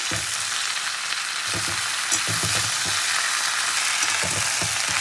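Malabar spinach (pui shak) sizzles steadily in a pan, with scraping and tossing sounds from stirring that come in bursts over the continuous frying hiss, close up and without talk.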